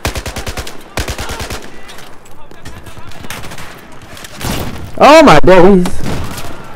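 Rapid Battlefield 4 gunfire rattles in dense, close bursts aimed at the player, loud and continuous, while a startled voice shouts over the shooting.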